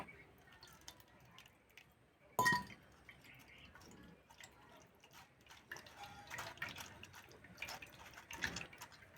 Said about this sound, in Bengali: এবারে ছাঁকনি করে ছেঁকে নেব